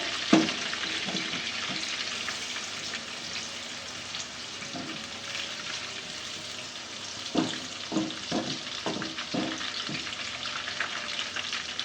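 Onions fry in oil for lentil dal with a steady, close sizzle throughout, and several sharp knocks and scrapes of stirring in the pan cluster near the end.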